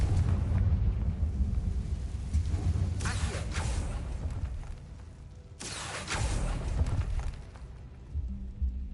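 Two fiery blasts of the Confringo spell from Hogwarts Legacy go off in the game, each a loud whooshing burst that trails into a rumbling roar. They sit over a continuous low game rumble.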